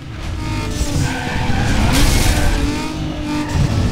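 In the video game Need for Speed Underground 2, a car races with loud, sustained tire skids and squeals over a roaring engine, close and continuous for a few seconds.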